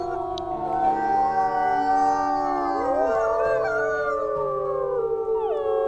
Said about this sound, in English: We're howling in territory that isn't ours, so probably not the smartest.